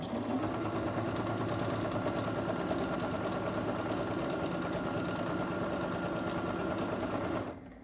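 A sewing machine in need of oil runs steadily with a constant mechanical whir and rattling knock, close by, then cuts off near the end.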